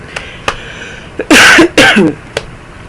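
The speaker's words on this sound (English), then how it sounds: "Got a little bit of a cough." A single harsh cough breaks out in two bursts, close and loud, with faint clicks and quiet breaths around it.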